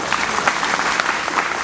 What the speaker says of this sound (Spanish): un aplauso a las mujeres